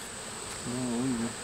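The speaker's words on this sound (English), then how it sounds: "And the nursing bees, this one's cleaning it out." Honeybees buzz on brood comb inside a beehive, with a close, steady hum that rises and wavers for about half a second over faint background buzzing.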